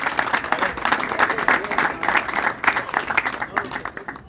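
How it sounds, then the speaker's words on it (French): An audience at a talk or Q&A gathering claps and cheers for a father being honoured, with dense rhythmic applause that runs throughout and fades slightly toward the end. "Est-ce qu'on peut encore acclamer pour notre papa?"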